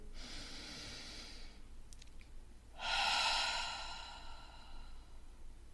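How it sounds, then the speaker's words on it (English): A long, slow breath out, then after a pause a deep breath drawn in. Soft and close, with no talking. "inviting you into taking a breath with me"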